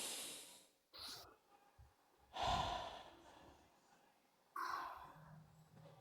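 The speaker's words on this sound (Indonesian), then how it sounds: "Coba ibu tarik napas." A woman takes deep, audible breaths during a guided relaxation session for acid reflux and insomnia, two long airy inhales and exhales separated by a pause, close and fairly soft.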